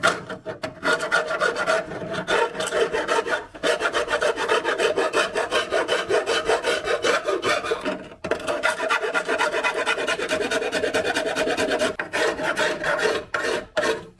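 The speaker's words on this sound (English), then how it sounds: "Now we're just going to go around with a little file just to get all the excess off" A small hand file rasps steadily across a Reliant Kitten dashboard, smoothing off excess material in continuous back-and-forth strokes with only brief pauses, close and loud.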